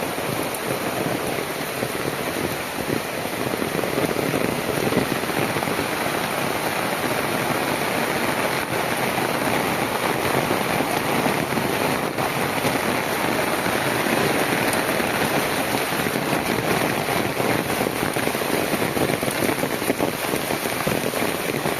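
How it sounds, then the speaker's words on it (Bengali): Heavy rain pouring down over a village, a loud, dense and unbroken hiss of drops hitting surfaces, continuous and close with no voices. "একদম কঠিন বৃষ্টি"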